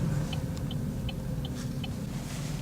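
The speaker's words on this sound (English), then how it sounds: "That engine's got a nice purr to it" A steady, quiet low purr from the engine of a new car with a manual shift mode, heard from inside the cabin, with a few faint light ticks over the smooth hum.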